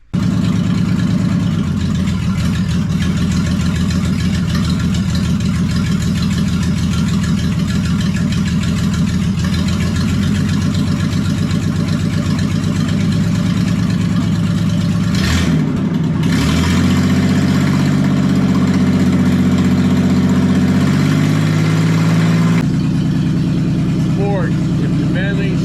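A Ford Bronco II engine runs steadily with its waterlogged A4LD automatic transmission in gear, a loud close drone that dips and shifts in pitch partway through, with a person talking over it.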